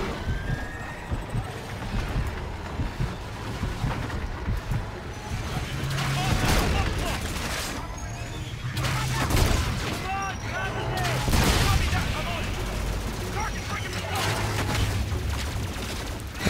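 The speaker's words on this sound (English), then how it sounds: "who's shooting at me?" Gunfire in the video game Call of Duty Infinite Warfare rattles through a dense battle mix of bursts, sirens and ambient combat noise, with speech over the top.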